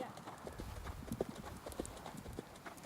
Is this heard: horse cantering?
yes